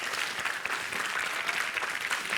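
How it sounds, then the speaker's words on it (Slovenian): Applause from an audience at a Slovenian school quiz event, cheering on the Dobje primary school team; dense, steady clapping fills the whole stretch at a fairly even level. "osnovna šola Dobje si zasluži velik aplavz"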